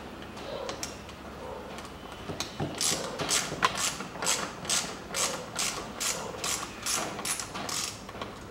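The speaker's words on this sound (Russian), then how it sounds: "Теперь берем биту Торкс, здесь Т25, и откручиваем вот этот болт крепления" A ratchet handle with a Torx T25 bit clicks in a steady run of sharp ticks, loosening a mounting bolt on a Stihl FS 55 string trimmer's angle gearbox, with a few scattered knocks before the ratcheting starts.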